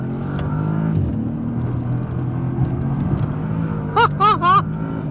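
A Bentley Flying Spur Speed accelerates hard, its engine note rising as a smooth, steady drone heard from inside the cabin, with a brief voice near the end.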